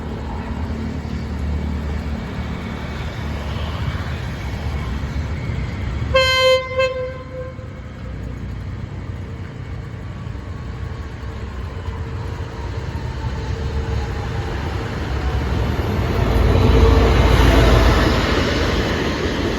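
An express train, number 25 hauled by locomotive 5210, sounds a loud, brief horn blast and then rumbles steadily as it draws into Sam Sen station, the low rolling noise swelling toward the end.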